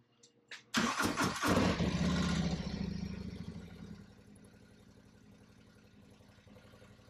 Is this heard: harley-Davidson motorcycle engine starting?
yes